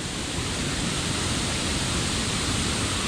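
Waterfall at Vagamon, Kerala, swollen after heavy rain, giving a steady, loud, close roar of rushing water that holds unchanged throughout with no voices.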